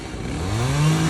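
A chainsaw carves wood at a lumberjack show at the Del Mar Fair, its engine revving up steadily and growing louder over about a second, close by and with no talking.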